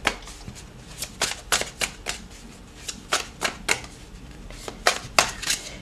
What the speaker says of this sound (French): J'ai envie de tirer encore une carte du tarot.